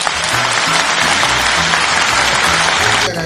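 Loud, steady applause from a crowd at the Señor de los Milagros religious festival in Santiago, Chile, sustained dense clapping that cuts off near the end.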